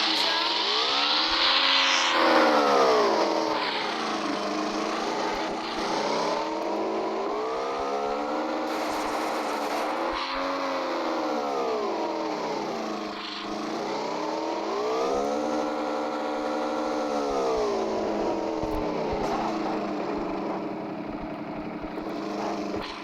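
A video game car engine revs up and down in repeated rising and falling sweeps while the car drives, loud and close, with no talking.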